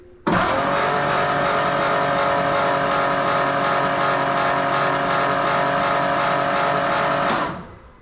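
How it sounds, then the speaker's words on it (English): A Chevrolet C10 pickup's engine cranks slowly on the starter, a steady, sluggish whirring drone that runs loud and unbroken for about seven seconds before cutting off. "Not cranking very fast."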